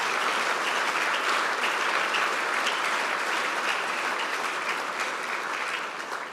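An audience at a Nzukọ Ụmụnna gathering hosted by the Covenant Church applauds, a continuous, even wash of many hands clapping for over six seconds that tapers slightly at the end.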